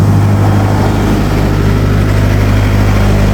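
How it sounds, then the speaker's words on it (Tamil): A steady, loud low rumble of a large engine running at idle at a temple festival, constant throughout with no voices. "இன்ஜின்லாம் கொண்டு வந்து வச்சுக்காங்க பாருங்க."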